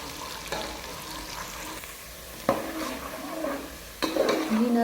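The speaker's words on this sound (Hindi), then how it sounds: "चम्मच को बिल्कुल भी नहीं रोकना ताकि ये प्याज ज़्यादा या कम ब्राउन ना हो जाए। अच्छे से मिक्स करते रहना है।" Onions browning in a pan for paya, stirred constantly with a spoon: a steady frying sizzle broken by scraping strokes and a few sharp knocks of the spoon against the metal, close up with no speech.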